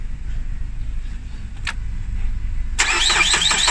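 A Ford Focus engine cranks without firing, a steady close whirring churn from the starter. It is cut by a short metallic click, then a sharp hissing, crackling burst takes over at the end.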